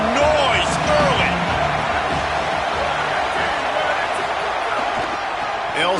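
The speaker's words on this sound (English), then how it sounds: "This crowd bringing the energy and noise early." Dense stadium crowd noise at a football game, a steady loud roar of many voices with a few whistles and shouts rising above it, running unbroken from start to finish.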